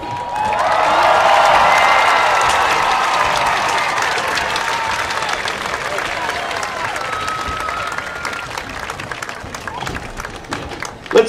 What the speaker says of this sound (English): Let's give them one more round of applause, ladies and gentlemen